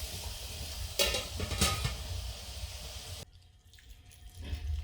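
Water bubbles and churns at a rolling boil in a canning pot nearby, with a couple of louder splashy surges, then settles to a quieter simmering hiss.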